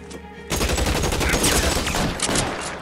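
A shootout in L.A. Noire erupts into loud, rapid gunfire after a quiet lead-in, with dense overlapping shots and sharp cracks continuing steadily throughout.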